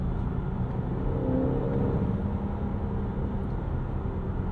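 A 2022 Cadillac XT4 with a 2-liter turbo engine accelerates hard, giving a steady, loud low rumble and whirring drone that holds throughout with no talk.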